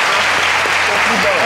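A group of people at a cooking and tasting event applauds themselves, a dense, steady wash of clapping at close range with a low hum beneath it and no voices.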